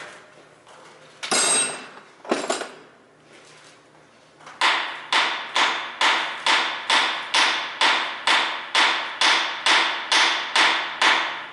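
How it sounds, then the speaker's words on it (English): A hammer strikes repeatedly: a couple of isolated knocks, then a steady, evenly spaced run of about fourteen sharp, loud blows, with no talk. "Give me a hammer."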